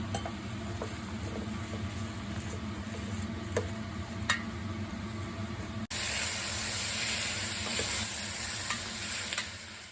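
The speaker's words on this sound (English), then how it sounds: "Once onions changed color, then put carrot" Carrots and onions stir-fry in a pan for Japanese curry. The sizzle is continuous and close, with occasional clicks from stirring, and it jumps louder about halfway through as the frying intensifies.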